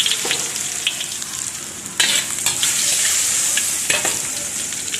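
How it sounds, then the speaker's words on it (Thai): Garlic frying in hot oil, ahead of squid stir-fried with salted egg, gives a bright, continuous close sizzle with a loud burst partway through and light stirring scrapes. "น้ำมันร้อนแล้วนะคะ เราจะเอากระเทียมลงไปเจียวเลยนะคะ"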